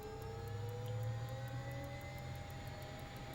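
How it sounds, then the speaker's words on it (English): Learjet 35A engine spooling up during a start in Microsoft Flight Simulator, a rising turbine whine over a low steady rumble, continuous and moderately loud. "let's start the engines"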